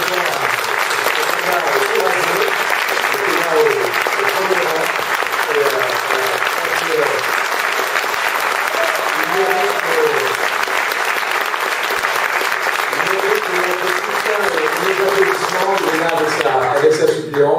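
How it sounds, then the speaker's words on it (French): Crowd at a French cantonal election rally giving sustained applause, loud and steady throughout, with cheering voices mixed into the clapping. "pour qu'on les applaudisse et qu'on les encourage"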